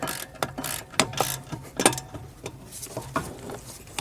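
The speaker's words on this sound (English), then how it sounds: "We're going to torque the first one." A torque wrench ratchets on the caliper bracket bolts of a Mercedes S550 rear brake, a series of sharp, close mechanical clicks and clacks in uneven bursts, with no talking.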